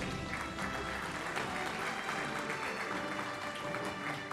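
Sustained applause from a crowd at a medical college convocation, steady and dense clapping throughout without a break, at moderate distance.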